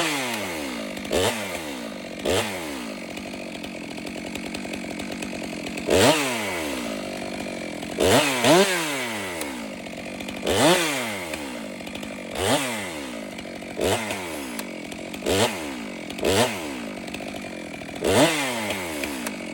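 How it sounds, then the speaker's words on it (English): A chainsaw with a faulty chain brake revs repeatedly, its chain spinning freely, each throttle burst rising and falling in a steady pattern of loud, close whines. "The chain brake was clicking and engaging and had pressure, but when you hit the throttle, it was just spinning."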